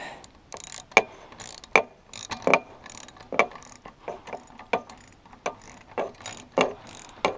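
Ratchet wrench tightening a bolt on a snow plow frame while mounting an 80 watt LED light, a series of sharp close clicks and ratcheting bursts in an irregular rhythm, with no talking.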